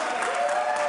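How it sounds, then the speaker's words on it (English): Legislators in the chamber break into brief, dense applause with cheering during a Wisconsin State of the State address, a loud burst of many hands clapping at once. "Republicans start cheering there"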